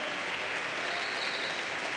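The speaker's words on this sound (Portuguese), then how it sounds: "Dê uma salva de palmas bem forte." A church congregation claps loudly during a sermon, a dense, even wash of many hands that stays constant for the whole stretch with no voices over it.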